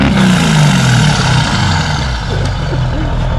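A diesel pickup truck engine with a very large exhaust revs hard and loud up close, its deep exhaust roar sliding down in pitch as it settles.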